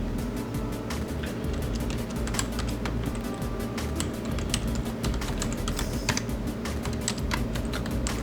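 Rapid typing on a computer keyboard while logging into a Windows 10 Pro virtual machine running on Hyper-V, a steady stream of close clicks over a constant low machine hum, with no talking.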